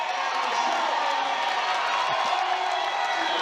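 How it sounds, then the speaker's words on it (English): A crowd at a basketball game cheers and whoops in a sustained ovation, with scattered clapping blending into a steady roar. "Listen to that crowd giving them the ovation."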